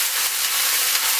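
Bacon slices sizzle in a hot pan, giving a steady, bright hiss that stays close and even for a moment with no talking.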